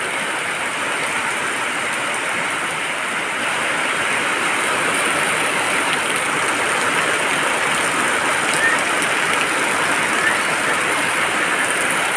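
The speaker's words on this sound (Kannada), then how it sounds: "ಜೋರು ಮಳೆನೇ ಬಂತು" Dense, steady roar of heavy rain pouring down continuously, loud and close, with no voices or breaks.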